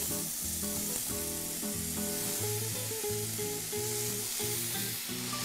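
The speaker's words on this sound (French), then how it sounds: "On va commencer donc à faire saisir les panais en premier parce que la cuisson est plus longue." Parsnips sear in a little oil in a hot pan, giving a loud, steady, close sizzle that never lets up, with faint tonal music underneath.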